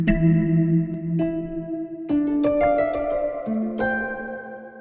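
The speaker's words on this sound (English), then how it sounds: "I do like that it has some modulation in the reverb" Reverb with modulation from the O2 Library Dark Forces plugin on sustained synth tones, as each held note changes and long shimmering tails wash and ring out behind it.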